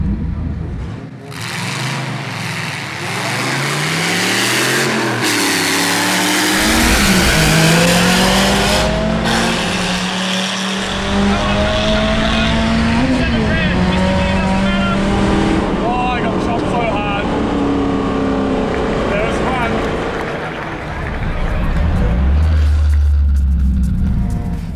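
Modified turbocharged cars with 2.4 litre engines launch in a drag race. Loud engine roar climbs through gears as the cars pull away, then fades toward the end. People talk over parts of it.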